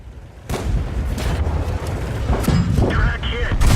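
Tank shells booming and impacting in World of Tanks around a Renault NC-31 light tank, several loud sharp bursts with a heavy thud near the start and rumbling mechanical noise between, under occasional speech.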